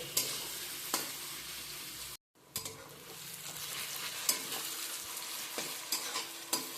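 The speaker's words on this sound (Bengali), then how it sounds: "পাঁচ মিনিট হাই ফ্লেমে আমি পেঁয়াজ ভেজে নেব" Sliced onions fry in oil over a high flame, a continuous close sizzle with scraping stirs and clinks of a spatula, cut by a brief silent gap.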